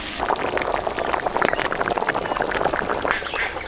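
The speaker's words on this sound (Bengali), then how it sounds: "ভেজে রাখা আলু জল দিয়ে দিচ্ছি" Water poured into a pan of fried spices and potatoes for curry, a dense sizzling, bubbling hiss that stays steady and close for several seconds.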